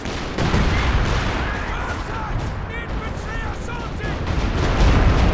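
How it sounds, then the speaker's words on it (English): Rocket artillery barrage from a walking Stuka in the Company of Heroes 2 video game, a dense roll of blasts and crackling impacts that keeps up throughout, with whistling rocket streaks layered over the rumble. "Okay, another big walking Stuka."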